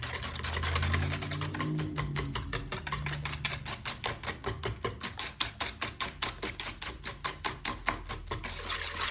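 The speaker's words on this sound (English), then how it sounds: "While you whisk the ingredients, go ahead and have a friend or a parent put the oven on to 350." Ingredients for s'mores bar batter whisked by hand in a bowl, a steady rapid scraping and tapping rhythm that grows more distinctly beat-by-beat toward the end, close and moderately loud with no talking.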